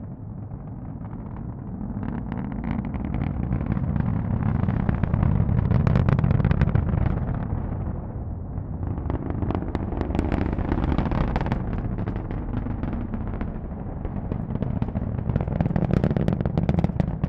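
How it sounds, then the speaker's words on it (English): Nine Merlin 1D engines on a SpaceX Falcon 9 roar during a Starlink launch from Cape Canaveral, a sustained, crackling low rumble heard from a distance that swells and ebbs steadily without pause. "let's listen to the roar of those 9 Merlin 1D engines"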